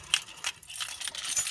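A large bunch of keys for a 1996 Pontiac Firebird Formula jingles and clinks in short bright bursts, close and fairly quiet, with no voices over it.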